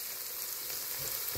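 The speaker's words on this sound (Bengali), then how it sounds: "রসুন আর কাঁচামরিচ। এটাকে আমি একটু ফ্রাই হতে দিব।" Garlic and green chilies frying in a pan, a steady close sizzle with a few soft stirring bumps near the end and no voices.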